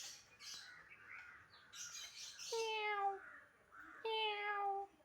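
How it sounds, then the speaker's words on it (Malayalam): A cat gives a run of faint, distant meows, two of them drawn out and wavering, with soft chirpy calls in between and no talking. "ഇവിടെ വേറെ പൂച്ചയുണ്ട്."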